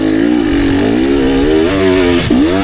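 A motorcycle pulls hard in second gear on a riding course, a loud close engine note rising steadily in pitch with a brief dip near the end.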